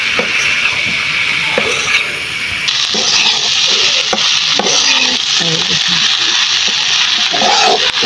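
Eggs fry with a steady hiss and sizzle in a pan while a spatula stirs and scrapes them, making loud, constant crackling up close. A voice talks now and then underneath.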